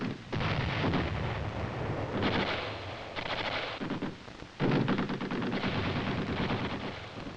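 Artillery fire firing smoke rounds to mark targets, heard as a loud, continuous roar of rumbling blasts and heavy booms that surge and fade, with no voices.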